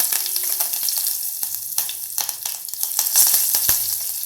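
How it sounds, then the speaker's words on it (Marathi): Curry leaves crackling in hot tempering oil with mustard seeds, cumin, fenugreek seeds and asafoetida, close and bright sizzling broken by sharp pops and spatula clicks, without any talking. "आता कढीपत्ता फुटला आहे."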